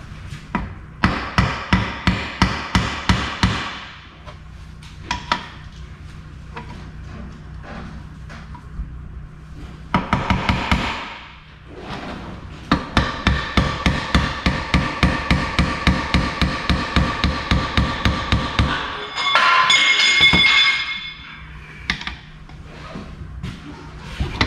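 Heavy hammer blows knock a flange off a 241 DLD transfer case from a Cummins truck, falling in fast rhythmic bursts of metallic strikes with short pauses between them.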